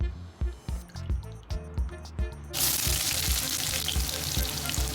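Butter and onions going into a pot for beef stew, first a few rhythmic squelchy stirring knocks, then a sudden loud, steady, close sizzle that continues to the end.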